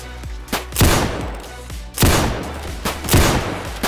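Repeater rifle shots ring out in the Roblox Zulu Wars battle, a British line firing at charging Zulus. Several loud cracks come at irregular intervals, each with a booming tail and no talk over them.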